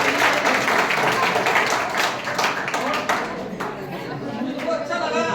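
Students and staff at a school farewell for departing pupils clap together in a sustained, dense burst of applause mixed with crowd chatter, steady and fairly loud throughout.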